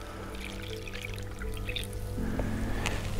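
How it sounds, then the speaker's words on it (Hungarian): A measured 300 ml of water is poured in one go onto a dry fishing groundbait mix, giving a continuous close splashing and trickling sound over a low background hum. "És ezt akár egy részletben rá lehet önteni a száraz anyagra."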